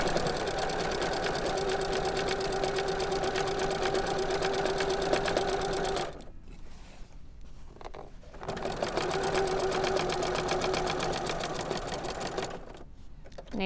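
A sewing machine stitches a Christmas stocking in a steady, loud, fast whir, stops for about three seconds as the needle is set down and the fabric pivoted, then runs again at the same pace.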